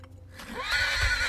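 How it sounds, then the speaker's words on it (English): A horse in the animated film Brave neighs, a rising then wavering whinny that swells louder toward the end over low rumbling, heard close with no talk. "That's a good horse, because he ain't leave her."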